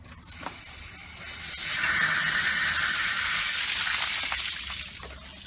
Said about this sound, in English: in order to drain the pipes, you have to open the valve which connects the pipes